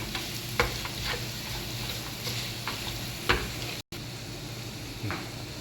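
Spices with turmeric powder being stirred into mango pickle, a steady scraping, stirring texture with faint sizzle-like hiss and a few louder clinks, close and continuous, with no talk.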